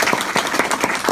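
A short burst of audience clapping during a mentoring session in an office, a few sharp claps in quick rhythm, close and moderately loud.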